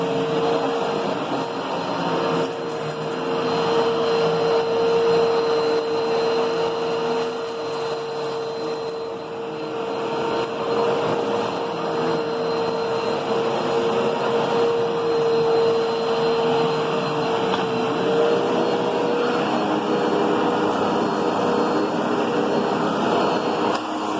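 Vacuum cleaner running steadily at close range, a constant whining drone with a fixed tone and airy rush, small dips and rattles as debris is sucked up.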